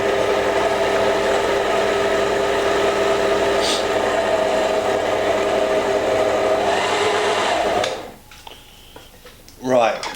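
An electric mixer runs steadily at high speed through a fruit mixture, a loud continuous whirr for about eight seconds that cuts off abruptly, leaving quieter room sound and a brief clatter.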